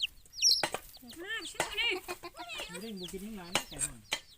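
Young chickens clucking and cackling in bursts, close by, with a few high chirps mixed in and a voice faintly in the background.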